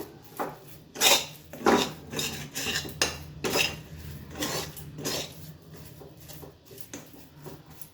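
A spoon scrapes and clinks against a metal pot while stirring cardamom powder into a khuder naru mixture of broken rice, close and irregular, with sharper taps among softer rubbing strokes and no talk.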